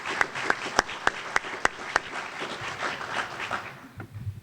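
Audience applause at a community program event in Delaware: a few loud individual claps ring out first, then a scattered, moderate round of clapping from a modest crowd that fades toward the end.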